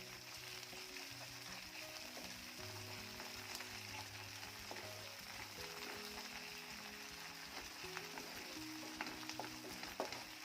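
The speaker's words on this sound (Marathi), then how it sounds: "पेस्ट देखील छान परतून घ्यायची आहे" Ginger garlic paste frying in oil for a yogurt okra curry, a quiet, continuous sizzle with gentle stirring heard from close by.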